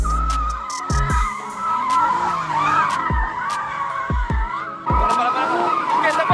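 A Porsche drifts with its tires squealing in long, loud, wavering screeches, while its engine note rises and falls and sharp bursts cut in throughout.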